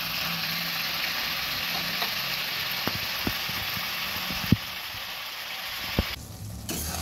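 Coriander chicken simmers in its own juices over low heat with a steady hissing bubble, punctuated now and then by soft clicks and scrapes from the pan.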